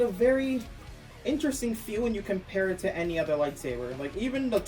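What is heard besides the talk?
No everyday noise stands out behind the speech.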